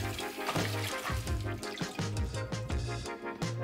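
Running water from a tap rinsing gluten dough washed out of flour, a steady close splashing stream with gurgling and sloshing as the dough is worked under it, continuous and fairly loud.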